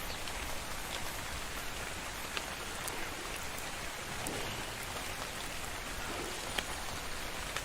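Steady rain in the video game ARK pours down in a dense, even hiss, with occasional faint drops standing out against the constant wash.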